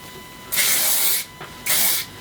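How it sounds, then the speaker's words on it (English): Tresemme hairspray hisses onto hair in two short, close bursts, each about half a second long, with a quiet gap between them and no talking. "I'm gonna use some Tresemme hairspray just to lay down the flyaways"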